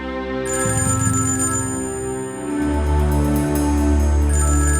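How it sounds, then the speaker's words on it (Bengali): A telephone rings loudly and continuously, a bright electronic tone repeating in a steady pattern with no talking. "ফোন বাজছে।"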